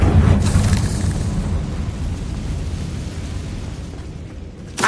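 A Confringo blasting spell in Hogwarts Legacy detonates with a loud, close boom, then a rumbling roar that slowly fades over the next few seconds.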